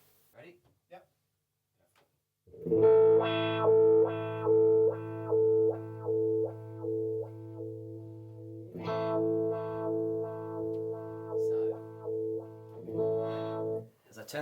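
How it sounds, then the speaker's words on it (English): Xotic XW-1 wah pedal on an electric guitar, its cue control being adjusted: sustained distorted chords swell and pulse in a steady rocking rhythm, loud and close, after a brief quiet start, with no talk. "I will twiddle the cue control so that we can hear that in action"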